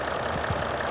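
A Range Rover L322 with the 4.4 TDV8 diesel, at around 200,000 miles, idles with a steady low rumble and broadband mechanical clatter, close and continuous, with no voices.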